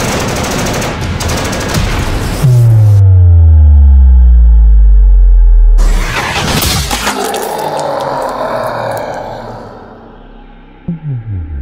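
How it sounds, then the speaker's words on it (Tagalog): Gunfire in an animated battle between soldiers and aswang creatures, loud rapid bursts of shots with a deep descending boom and rumbling blast in the middle, then more crackling fire and a few sharp impacts near the end. "Paputukan nyo!"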